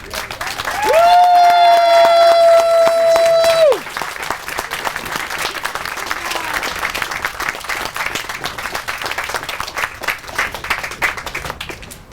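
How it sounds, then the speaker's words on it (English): A crowd at a travel plaza grand opening applauds steadily for several seconds after a long sustained tone fades, the clapping dense and continuous. "please join me in a raucous round of applause"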